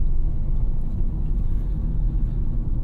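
A 2015 Honda HR-V S with a CVT gearbox picks up speed, its cabin filled with a loud, steady low rumble of engine and road that holds level with no breaks or gear-change surges.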